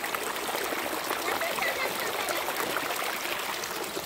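Rain-swollen stream in the Pernambuco interior, water rushing over a dam with heavy volume; steady, dense broadband rushing and splashing, continuous and fairly near with no clear pauses.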